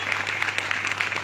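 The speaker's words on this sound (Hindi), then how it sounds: "कुशवाहा जी और इनके साथीगण जिन्होंने सहयोग किया उनको ताली बजा करके स्वागत करिए" Brief burst of applause from a gathering at a devotional satsang, a short patter of claps over a steady low electrical hum, fairly faint and moderately dense.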